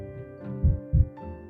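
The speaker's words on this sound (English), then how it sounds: "So I got to hear what a cheetah heartbeat sounded like." Slow heartbeat of a sleeping cheetah, two soft low thumps spaced about a third of a second apart over a steady faint hum, close and muffled.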